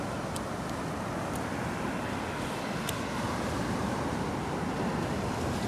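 Ocean waves wash onto the shore at Laguna Beach in a continuous, loud hiss of surf with some wind rumble and no talking.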